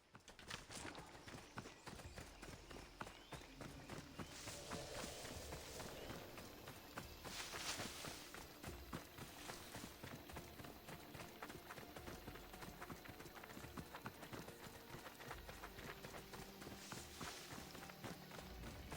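Horse hooves clip-clop steadily through a long ride in Assassin's Creed Odyssey, on a flaming horse said to come from Hades, a continuous even rhythm over game ambience and music with no talk.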